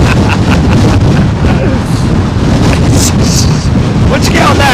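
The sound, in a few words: strong gusty wind at London Heathrow Airport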